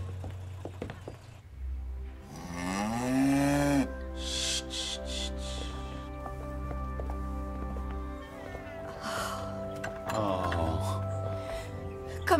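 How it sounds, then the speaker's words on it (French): A cow about to give birth on a farm lets out a long, strained low moo, followed by further drawn-out lowing calls, fairly close and loud, with some animal movement between them. "Notre vache est sur le point d'accoucher."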